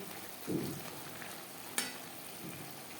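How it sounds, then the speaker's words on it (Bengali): Snake gourd (chichinga) fries and gets stirred on high flame until dry, a faint, steady sizzle with a soft scrape of stirring and one brief clink, no talk. "হাই ফ্লেমে আরও তিন চার মিনিট নাড়াচাড়া করে নিয়েছি"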